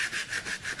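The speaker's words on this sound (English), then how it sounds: "And then I start with a coarser sandpaper" Coarse sandpaper rubbed by hand over a hardcover book indoors, a steady back-and-forth rasp in four even strokes, close and fairly quiet with no talking.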